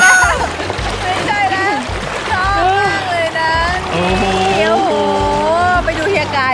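Water splashes steadily as a child plays in a fountain at a hotel pool, half buried under continuous chatter from adults and children talking nearby.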